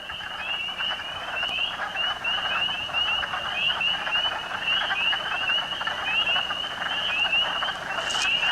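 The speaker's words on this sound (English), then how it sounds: "Those are little frogs that just came up out of the ground, and now they're croaking their heads off" Spring peeper frogs call from the ground in early spring, a continuous chorus of high, repeated peeps and trills that carries steadily at moderate loudness through the whole stretch.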